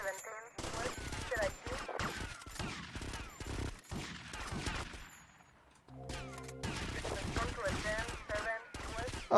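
Repeated gunfire bursts and a fusillade of shots in GTA: Vice City, loud and dense throughout, with a brief lull in the middle before the shooting resumes, with a player talking over it.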